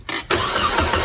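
A 2006 Saab 9-5 Turbo, flood-damaged, cranks briefly and then catches, settling into a loud, steady close-up engine run.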